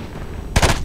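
A short, loud burst of gunfire from the video game Killzone: Mercenary on PS Vita cuts in near the end, following a moment of low ambient noise.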